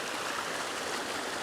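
Steady rushing river water flowing over moss-covered rocks at the river's edge, a dense close wash of sound with no voices, constant throughout.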